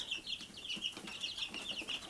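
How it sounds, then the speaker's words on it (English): Young chicks in a small homestead flock chirp in a steady, overlapping chorus of high peeping calls, close and continuous with no talking. "Everybody loves to see little chicks."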